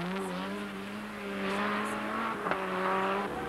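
BMW and Ford Sierra rally cars accelerate hard on a Corsican rally stage, engines revving high and steady with a brief gear-change dip, moderately distant and unbroken by talk.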